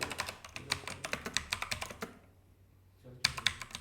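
Someone types an npm command on a computer keyboard, a rapid run of close, crisp key taps that pauses for about a second before a final short burst.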